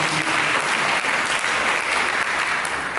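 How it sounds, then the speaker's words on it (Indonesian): Congregation applause during a church service sermon, a continuous, dense wash of clapping from a crowd, steady and fairly loud throughout with no speech over it. "berikan tepuk tangan"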